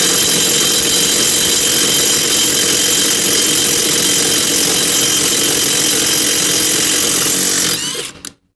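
A LUDYVI BL800 cordless brushless impact wrench loosens bolts, giving a loud, continuous rattling hammer and motor whine close up for nearly eight seconds before stopping abruptly.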